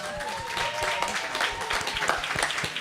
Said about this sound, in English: just one more round of applause for our awesome panelists and moderator